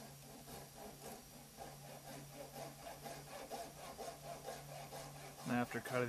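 A hand saw cuts through a part for a homemade camera stabilizer gimbal held in a vise, with rhythmic rasping strokes close up; a louder clatter comes near the end.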